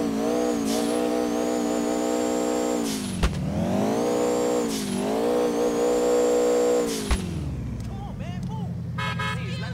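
A turbocharged car in the video game GTA IV revs hard, its engine tone climbing and dropping in long sweeping surges with sharp bursts between them, loud and continuous until it settles to a lower idle.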